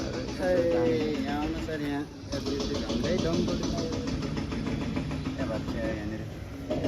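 A motorcycle in poor mechanical condition idles with a steady low rumble in a village market in Rukum, Nepal, beneath continuous talking voices nearby.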